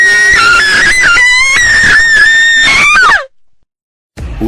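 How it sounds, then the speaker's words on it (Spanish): A long, loud, piercing human scream used as a sound effect, wavering in pitch for about three seconds before cutting off abruptly into silence, followed by a brief low rumble. "un grito nos alarmó a todos."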